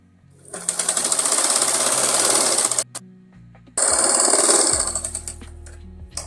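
A sewing machine stitches along the edge of a fabric strip in two loud, steady bursts broken by a short pause.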